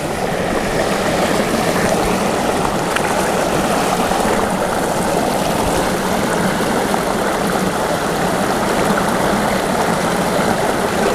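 Steady rushing flow of the River Aire at Knottingley, a continuous loud wash of moving water with no break or talk throughout.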